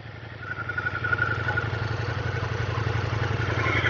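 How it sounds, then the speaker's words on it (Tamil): A Ducati Multistrada V4 S idles close by, its V4 engine giving a steady, throbbing, slightly clattery rumble that holds even and loud throughout. "இவ்வளோ பக்கத்தில் வந்து நான் ஒரு V4 கேட்குறது இதுதான் ஃபர்ஸ்ட் டைம்"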